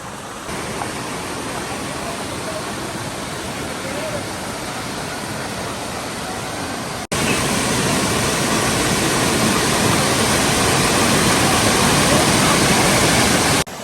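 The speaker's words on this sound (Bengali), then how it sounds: "দেখেন এই ঝর্ণাটি কত সুন্দর" Khoiyachora waterfall at Mirsharai rushes in a dense, continuous roar close by, growing louder halfway through as the water comes nearer, with no clear voices over it.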